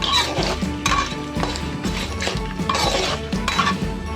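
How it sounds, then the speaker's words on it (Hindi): Peanuts being roasted and stirred in a pan for lemon rice, with steady clinking and scraping of metal utensil against cookware in a continuous busy rhythm, up close and fairly loud, with no talking. "अब इसमें डाल देना है हमको मूंगफली के दाने, और उनको अच्छे से हमें भून देना है।"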